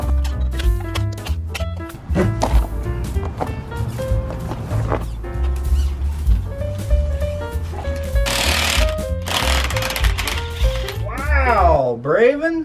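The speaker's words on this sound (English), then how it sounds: "Silver socket on impact engaged." An impact wrench rattles in repeated bursts while removing tight lug nuts from an all-wheel-drive Honda CR-V, loud and close, with ratcheting hammering pulses and brief gaps between them, ending in a sweeping whine.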